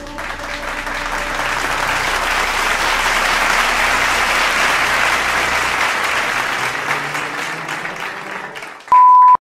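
Steady applause from a crowd rises and holds for about nine seconds, loud and continuous, then cuts off abruptly into a short electronic beep tone at the end.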